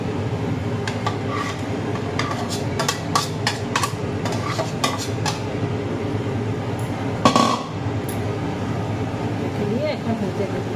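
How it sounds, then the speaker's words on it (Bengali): Fried fish heads tumble into a pot of chana dal and get stirred, giving a string of sharp utensil clinks and scrapes against the pot over a steady low kitchen hum, with a louder clatter near the middle. "এখন দিয়ে দেবো মাছের মাথাগুলো যে ভেজে রেখেছিলাম, সেই মাছের মাথাগুলো আমি এখন দিয়ে দেবো।"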